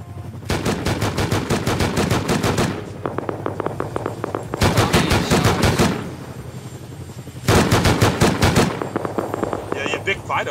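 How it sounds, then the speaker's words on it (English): Loud video-game gunfire rattles in three heavy automatic bursts, with lighter scattered shots in the gaps between them, close and dominant throughout. "Oh, he's getting shot at again."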